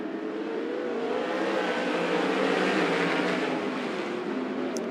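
Open-wheel race cars at Skagit Speedway accelerate together at the green flag, a dense, loud roar of multiple engines climbing in pitch, heard from trackside without commentary over it.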